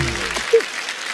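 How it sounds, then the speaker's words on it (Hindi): Studio audience applause on a comedy talk show greets Akshay Kumar and Kiara, a dense wash of clapping that carries through the short moment at fairly even loudness. "जोरदार तालियां अक्षय पाजी और क्यारा के लिए"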